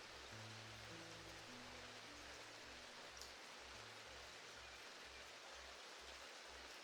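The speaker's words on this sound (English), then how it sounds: "that rain sound is so calming" Steady, even patter of video game rain filling the whole scene, with soft low tones and a muffled rhythmic pulse underneath; no voices.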